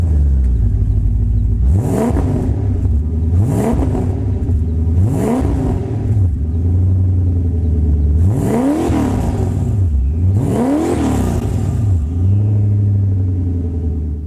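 A turbocharged 1986 Porsche 928S engine is revved repeatedly, with about six loud, sweeping blips rising and falling over a steady, close idle rumble.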